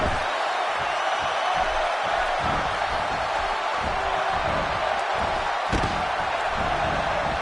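A dense, roaring arena crowd in the wrestling video game WWE 2K16 cheers continuously, loud and unbroken, with occasional thuds and slams from the ring underneath.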